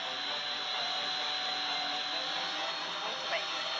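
Stand mixer beating cake batter with six whole eggs in a baking competition kitchen, a steady, loud broadband whir holding evenly throughout.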